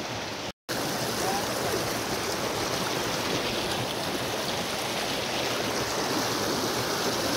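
Small waterfall-like stream of flowing water along a trail toward Triveni in Nepal, a steady, close rushing and splashing wash that continues without pause, broken only by a brief cut near the start.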